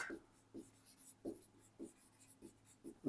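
A pen scratches on paper in a classroom lesson, a series of soft, close strokes in an uneven rhythm over a faint background hum.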